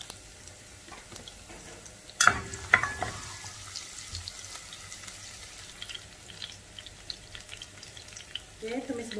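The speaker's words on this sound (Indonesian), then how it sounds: "Terus kita akan tumis bawang putihnya dulu" Garlic sautéing in a pan as the base of a homemade spaghetti bolognese sauce: a sharp clatter and sizzle burst at the start of cooking, then a quieter steady frying hiss with scattered small ticks and clinks.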